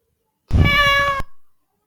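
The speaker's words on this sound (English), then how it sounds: "cat," A single loud, drawn-out cat meow from a Code.org sound effect, clear and tonal, lasting about a second before trailing off into silence.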